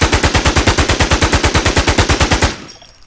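Rapid machine gun fire in Eclipse Studio with bullet spread set to maximum, a loud, steady stream of evenly spaced shots lasting about two and a half seconds before stopping sharply.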